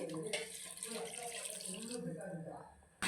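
Water is poured into a pot of frying chicken curry masala, a steady splashing, trickling rush close by that fades out near the end, with a voice talking over it.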